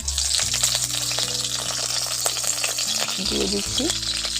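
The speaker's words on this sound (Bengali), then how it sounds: "তেলের মধ্যে কাঁচা লঙ্কা আর পাকা লঙ্কা হাফ হাফ করে নিয়েছি, এখন ওর মধ্যে দিয়ে দিচ্ছি" Green and red chillies, halved, drop into hot cooking oil and crackle with a loud, continuous sizzle that holds steady with faint background hum.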